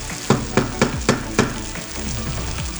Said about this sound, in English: Okay, let's keep stirring.